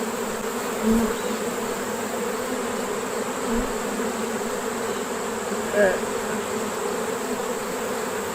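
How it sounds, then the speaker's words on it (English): Honeybees crawling over a hive frame with capped brood, larvae and queen cells give a steady, close droning buzz that runs throughout, with a few brief louder swells as bees pass near. "Why are you crawling over my hand, bees?"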